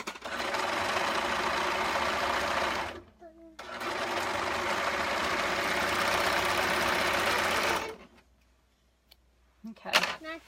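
A sewing machine stitches a shoulder seam on a handmade top in two long, steady mechanical runs with a short pause between them. The motor is loud and close, and it stops before a few small handling sounds at the end.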